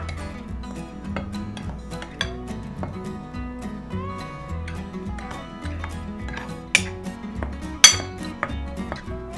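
Sugar is stirred into a batter mixture in a bowl by hand, with a utensil clinking and scraping against the dish in an irregular rhythm and a few sharper knocks, close and moderately loud.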